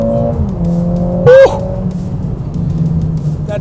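A Mercedes-AMG A 45 S turbocharged hatchback accelerates hard, a steady loud engine drone heard from inside the car, with a brief rising whine and squeal near the middle.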